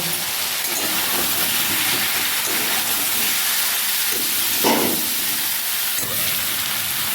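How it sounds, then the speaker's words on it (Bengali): Fried potato and elephant foot yam are sautéed with spices in hot oil, giving a steady broad hiss with faint scraping stirs and one brief louder burst, close and without talk. "এবার এর মধ্যে ভেজে রাখা আলু আর ভেজে রাখা ওলটাকে দিয়ে দিচ্ছি, দিয়ে ভালো করে একটু কষিয়ে নেব।"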